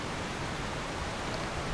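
Water splashing and rushing in the Alan Wake video game, a steady, even wash of noise that runs unbroken through the whole short stretch with no voices over it.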